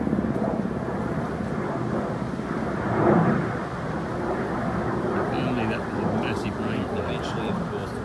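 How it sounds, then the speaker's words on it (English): A water bomber aircraft flies over a bushfire and its smoke, a continuous broad engine roar that swells briefly midway, heard alongside a voice talking. "Another water bomber coming in"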